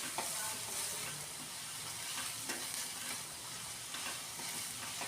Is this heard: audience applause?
no